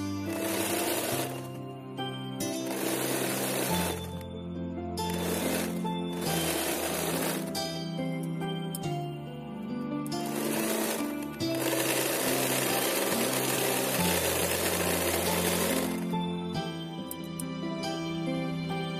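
An electric sewing machine runs in steady bursts while stitching a hook strip onto a boat-neck blouse, with short pauses between several long runs of rapid, whirring stitches.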